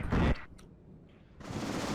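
Artillery fire and explosions in the WARNO strategy video game: one loud, sharp blast at the start that decays into quiet, followed by a rising rumble of further fire, no speech.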